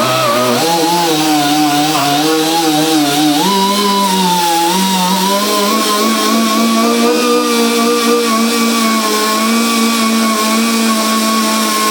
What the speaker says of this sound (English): And like I say, this isn't scratching. This is like a buffing pad,